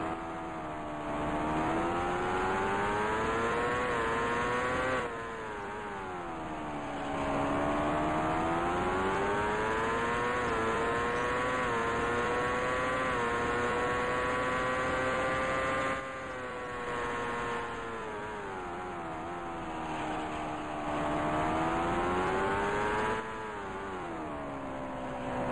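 A 1989 CART Indy car drones loudly and continuously through the Detroit Grand Prix street circuit in Indycar Racing II, its engine pitch rising and falling in long sweeps as the throttle is eased on and off, with no talk.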